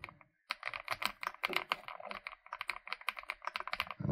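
Fast typing on a Mechlands Vibe 75 mechanical keyboard: a dense run of crisp, close keystrokes after a brief silent pause, with no talking.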